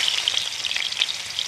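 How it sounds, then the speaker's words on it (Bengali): Pieces of shankar fish (stingray) fry in hot oil in a kadai, a steady, crackling sizzle with tiny popping bursts heard up close and alone. "তেলটাও গরম হয়ে গেছে, মাছগুলোকে একটু ভেজে নেব।"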